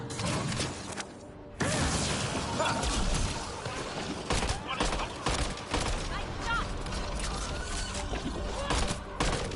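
Rapid gunfire from Mass Effect Andromeda, a video game, rattles in dense, loud bursts with crashing impacts. Game effects fill the mix and a player's voice occasionally talks over it.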